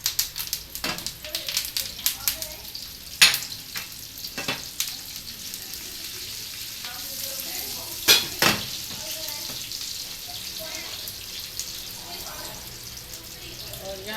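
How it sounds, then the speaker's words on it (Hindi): Steady sizzling of cumin seeds and fresh curry leaves in hot oil for a kadhi pakora tempering, close and continuous, with occasional sharp crackles and pops bursting through the hiss. "तो ये सब जाएगा ऑयल में।"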